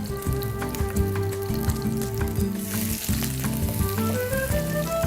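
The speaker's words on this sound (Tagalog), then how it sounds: "So, nandiyan na yung mantika. Ilagay natin yung sibuyas." Onions dropped into hot oil for Bicol Express, sizzling steadily and loudly while music plays in the background.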